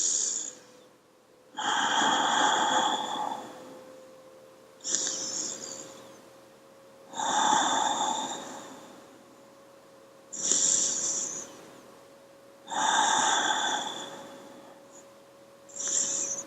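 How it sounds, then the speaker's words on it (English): Slow, deep breathing during a yoga hare pose, each long breath rising and fading in a regular rhythm about every three seconds, close and fairly quiet over a faint steady hum. "Just breathe."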